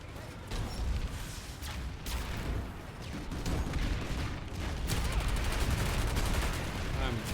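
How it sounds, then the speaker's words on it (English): Gunfire in the online shooter game Planetside 2: repeated rapid bursts and single shots crack out in clusters over a busy battle din, moderately loud throughout. "Shoot them as they run away."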